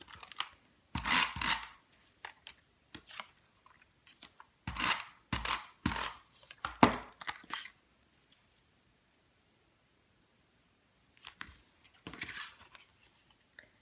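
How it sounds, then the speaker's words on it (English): Scissors snipping through paper while making a birthday card, a run of crisp close cuts in bursts for about eight seconds, then a pause before a few more snips near the end. "So nobody will ever know that we use the scissors to cut it there."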